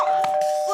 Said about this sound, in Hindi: ओए घंटी क्यों बजाए जा रहा है?